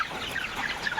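Chickens in a poultry shed cluck in a busy, overlapping chorus that is close and fairly loud throughout the short stretch.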